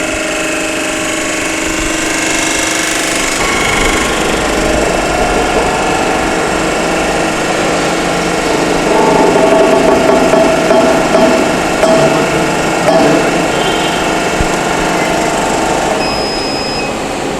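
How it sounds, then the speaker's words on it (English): A hydraulic jack compression testing machine runs steadily on a cement mortar sample, a continuous mechanical hum and whir holding for the whole stretch with slight swells and no voices. "Give a start command of your hydraulic jack and run the setup."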